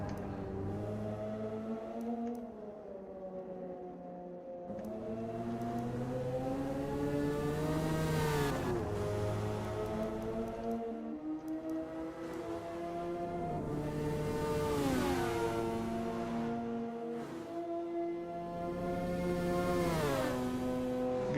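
Mazda RX-7 FD and RX-8 rotary engines rev high in a Nissan versus Mazda racing game at Suzuka, with repeated rising and falling revs and gear changes that stay steady and fairly close.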